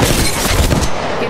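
Apex Legends Mobile gunfire fills the scene as a dense, loud barrage of shots mixed with game noise, steady throughout with no clear gaps between rounds.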